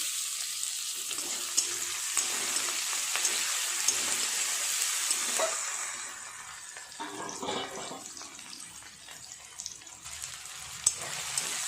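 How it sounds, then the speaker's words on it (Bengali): Onion, chopped garlic and tomato fry in a pan with a soft, steady sizzle, fairly quiet and close, with a few small clinks and a shift in texture partway through as ingredients go in. "পেঁয়াজটা একটু ভাজা হয়ে গেছে, দিয়ে দেব রসুন কুচি আর টমেটো।"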